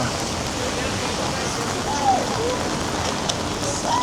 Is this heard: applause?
no